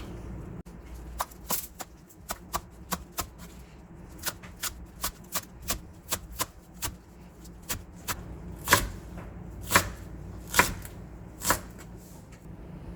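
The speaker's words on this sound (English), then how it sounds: "Clean the green onions and cut them into 2 to 3 centimeter pieces." A knife chops green onions into short pieces on a board, a series of crisp, close thunks in an uneven rhythm that grow louder and more spaced toward the end.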